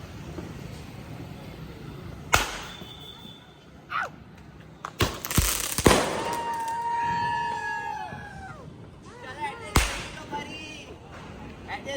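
Diwali firecrackers and hand bombs going off at a family celebration, several sharp broadband bangs spaced across the scene, with people talking and shouting around them and a whistling rocket-like tone trailing after one blast.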